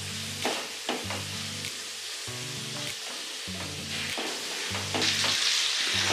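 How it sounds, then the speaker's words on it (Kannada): Chicken pieces sautéing over a medium flame for a Mangalore-style ghee roast, with steady close sizzling and repeated stirring scrapes in a regular rhythm, no voices. "ಅಲ್ಲಿವರೆಗೂ ಇದನ್ನು ಒಂದು ಮೀಡಿಯಂ ಫ್ಲೇಮಲ್ಲೇ ಆಗಾಗ ಮಧ್ಯೆ ಹಿಂಗೆ ಸಾಟೆ ಮಾಡ್ತಾನೆ ಇದನ್ನು ಚೆನ್ನಾಗಿ"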